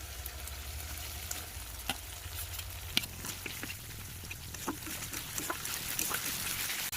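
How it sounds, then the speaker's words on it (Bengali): Ginger, garlic and green chilli paste fries with onions in a pan, a continuous crackling sizzle with frequent sharp pops and stirring scrapes, close and moderately loud. "আদা রসুন কাঁচা লঙ্কা বাটা দিয়ে ভালোভাবে ভেজে নেবেন"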